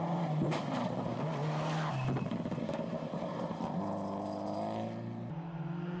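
A Subaru rally car with lowered ride height drives a rutted gravel stage in New Zealand, its engine revving up and down through gear changes with gravel crunch and a brief skid-like scrub, fairly close.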